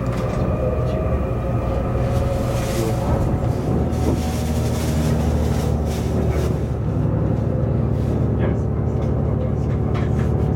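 A JR train pulling out of Matsumoto station in Nagano, a steady loud low rumble of the carriages and rails running throughout, with faint voices mixed in.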